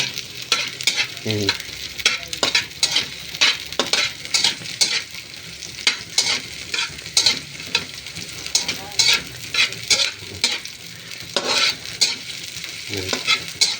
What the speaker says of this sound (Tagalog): Malit lang naman yung kwan ng bawang. Yan. Gisa-gisa natin.